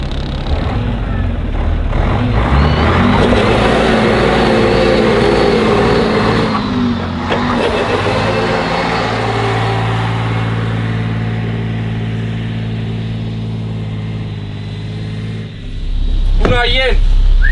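A Mercedes O407 bus runs for the first time in years, its engine roaring loud and close in second gear as the wheels spin in a burnout, the drone easing near the end before a brief squeal.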